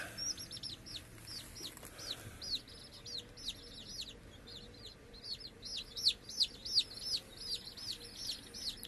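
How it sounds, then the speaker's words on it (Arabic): Baby chicks chirping in a steady stream of high, rapid peeps, several birds close by with some louder bursts, over a low background hum and no talk. "كتكوت الجميل"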